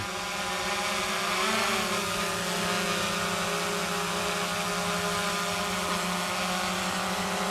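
A DJI Mavic Air 2 drone flies in to land, its steady high-pitched propeller whine and motor hum holding constant and fairly close throughout, with a slight pitch shift early on as it descends.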